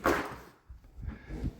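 Front entry door with two glass windows swinging open and shut in a house foyer: a sharp initial clack, then softer thuds and rattles as it moves and closes, close and moderately loud.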